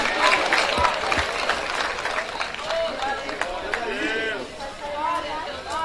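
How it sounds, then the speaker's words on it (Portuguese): A church congregation applauds at an evangelical worship service, a spread of clapping mixed with crowd chatter and raised voices calling out, fairly close and steady over several seconds. "Aplauda Jesus Cristo, meus irmãos."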